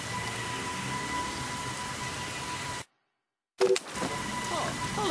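Steady rain hisses in Splinter Cell: Pandora Tomorrow, cuts out to silence for under a second, then returns with a brief clatter, and no voices are heard.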